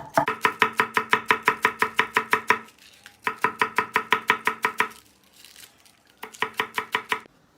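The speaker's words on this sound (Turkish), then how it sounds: "Çok da ince doğrayacağız." A knife finely chops cabbage rapidly on a cutting board in three bursts of quick, even strokes, close and crisp, separated by short pauses.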